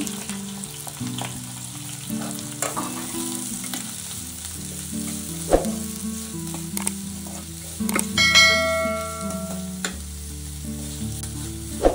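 Three onions frying in a pan for an egg palya, a close, steady sizzle with scattered stirring scrapes and a louder clink of utensils partway through, under background music.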